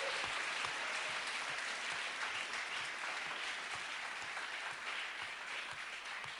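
A church congregation clapping together, steady sustained applause from many hands heard at a moderate distance in a large room.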